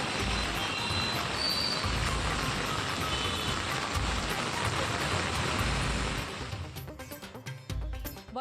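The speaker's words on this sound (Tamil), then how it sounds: "சென்னை மற்றும் புறநகர் பகுதிகளில் இரவில் பலத்த காற்றுடன் கனமழை." Heavy rain with strong wind pours down at night in Chennai as a steady, dense hiss that fills the scene, easing slightly and turning patchier near the end.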